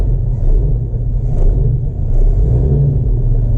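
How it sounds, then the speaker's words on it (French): A cold Jaguar XK 150 engine settles into a steady idle after starting, giving a loud, close, continuous low rumble with slight swells in revving and no talking. "Voilà, la voiture est froide, elle tient déjà le ralenti."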